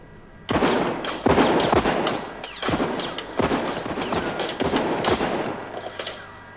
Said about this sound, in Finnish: Katri Helenan ohella näyttämällä ammutaan koko liuta muitakin suomalaisia, Matti Vanhasesta, Leni Taeristoon